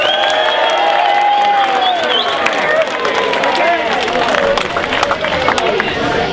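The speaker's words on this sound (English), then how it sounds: "Big round of applause." A theatre audience applauds and cheers the cast after a Sherlock Holmes stage production, dense clapping mixed with whoops and crowd noise, with a voice calling out over the ovation.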